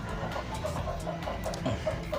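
An aseel hen clucks softly in short, repeated notes over steady farmyard background noise, close by and with no talking.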